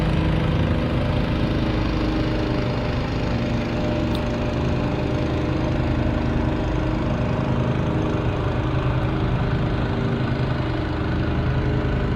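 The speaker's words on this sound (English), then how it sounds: "Perfect timing for the lawnmower as well here." A lawn mower engine runs nearby the whole time, a loud steady droning hum with a rough constant rumble and no pauses or change in pitch.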